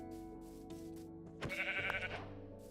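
Sheep bleat in a Minecraft-style sandbox game, with several short bleats close together over a quiet background.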